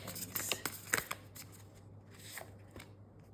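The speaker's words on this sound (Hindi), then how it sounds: "आपके लिए दो कार्ड्स ही शफल आउट हो रहे हैं।" Tarot cards are shuffled by hand in quick soft riffles and flicks, a few crisp snaps followed by quieter rustling, close and fairly faint under a low background hum.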